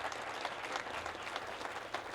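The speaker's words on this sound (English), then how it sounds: "So we should give him a big round of applause." Applause from an audience at a boxcar installation ceremony, a steady patter of many hands clapping with slight surges, moderately close and without speech.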